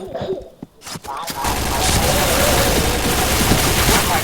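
Sustained automatic gunfire from an M8 rifle and other weapons in an online shooter game rattles loudly and continuously, with voices talking over the opening shots.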